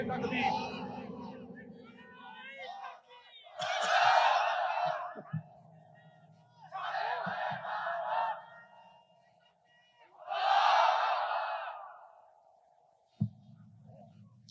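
A crowd at an outdoor Islamic sermon roars back takbir in loud, swelling group shouts, three big bursts separated by a preacher's amplified calls.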